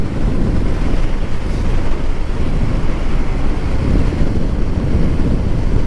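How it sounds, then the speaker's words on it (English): Steady, loud buffeting wind roars over the microphone while a motorcycle is ridden down an open road, a constant rumbling rush with no pauses. "oh, it's really windy too"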